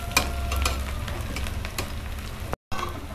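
Onions sizzling in a pan for an egg curry, a continuous close crackle with a few sharper stirring clicks, cut by a short silent gap near the end before the frying resumes.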